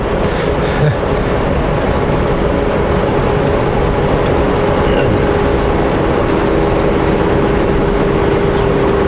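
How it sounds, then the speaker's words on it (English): Heavy truck traffic rolls past nearby on a foggy morning, a dense continuous roar and rumble filling the whole stretch with no let-up and no voices. "saying that I should get a different microphone that doesn't pick up as much truck noise"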